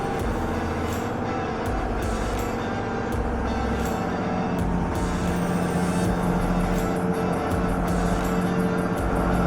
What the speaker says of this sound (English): That 86 is pulling that chisel plow no problem.